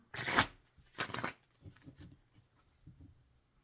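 Tarot deck being shuffled by hand, two brisk riffling bursts followed by softer card taps and handling, close and quiet in a still room.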